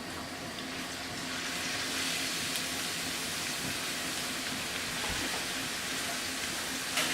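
Garlic sautés with salt in a pan, giving a steady, even sizzle that fills the whole stretch with no talking.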